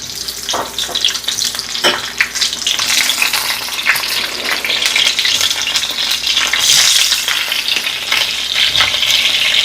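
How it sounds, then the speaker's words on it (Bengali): Pointed gourds (potol) sliding into hot oil in a pan for doi potol, a loud continuous frying sizzle with crackling bursts and occasional stirring clatter, close up and without talk. "দেখো গরম হয়ে গেছে তেল। এবার পটলগুলো ধীরে ধীরে ছেড়ে দিচ্ছি।"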